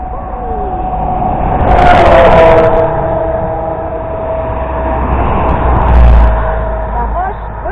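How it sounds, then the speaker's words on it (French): A truck passes close to walkers on a country road along a Brittany hiking route, its loud engine roar swelling, fading and surging again, with people talking nearby. "Attention, camion qui passe."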